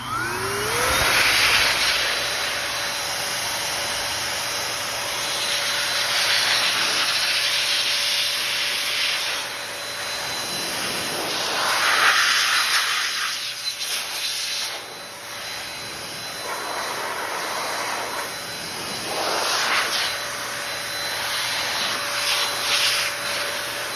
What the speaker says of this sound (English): Let me go ahead and blow it off a little bit more to try to get that dried up.